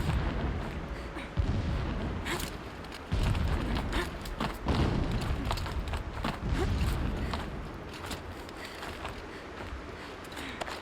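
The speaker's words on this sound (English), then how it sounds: "Explosions in the distance." Muffled booms and rumbles roll in from far off in a video game, a few heavier thuds among a steady low rumble, fading toward the end.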